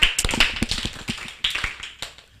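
Children at an Igbo summer camp clap for someone, with several quick bursts of close, sharp hand claps in loose rhythm and no talking over them.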